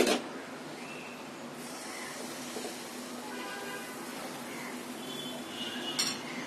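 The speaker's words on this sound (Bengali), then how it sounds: "দেওয়ার আগে একটু নেড়ে চেড়ে নিতে হবে।" Patisapta pitha batter stirred with a spoon, giving soft continuous scraping and a few light clinks against the bowl, faint and close, with a sharper knock at the start and near the end.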